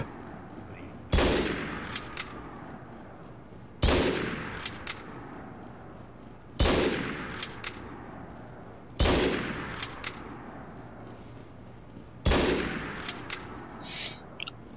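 Five loud, sharp sniper rifle shots in a video game, evenly spaced about three seconds apart, each with a sharp crack and a ringing decaying tail over low background ambience.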